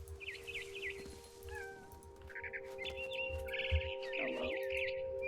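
A cat meows in the video game What Remains of Edith Finch, several short rising and falling calls mixed with bird chirps over a steady game hum.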